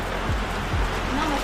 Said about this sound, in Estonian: Vihmasadu ainult kasvab iga hetkega.